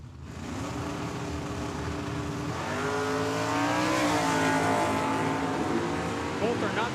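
A 1972 Ford Maverick and a Chevelle launch side by side at a drag strip, engines rising from a rumbling idle into loud climbing revs. An announcer talks over the start.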